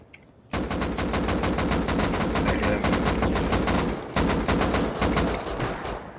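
Rapid automatic gunfire with explosive bullets in Rust, loud evenly spaced shots in a long sustained burst that breaks off briefly and then resumes.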